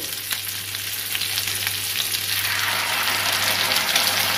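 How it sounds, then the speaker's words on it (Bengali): Chicken frying in a pan for a lemon garlic chicken dish, with sauce about to be added; a steady, close sizzle with stirring runs alone throughout, growing slightly louder and brighter toward the end. "অল্প ভেজে নিয়ে এখন আমি সসটা দেব।"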